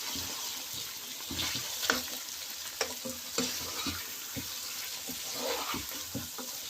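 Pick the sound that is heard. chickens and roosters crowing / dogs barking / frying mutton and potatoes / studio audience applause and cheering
frying mutton and potatoes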